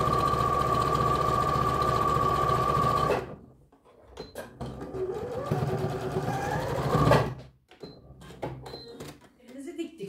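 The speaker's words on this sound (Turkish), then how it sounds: "Şimdi şu üst kısmından da böyle gelecek yere bir dikiş atalım." Sewing machine stitching a tracksuit pocket, running steadily and loud for about three seconds and then in a second burst, with handling clatter and pauses in between.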